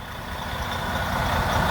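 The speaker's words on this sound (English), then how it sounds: "Just got the truck started. It is not happy." Truck engine just started, running roughly at idle with a dense, uneven low rumble close by, alone without voices.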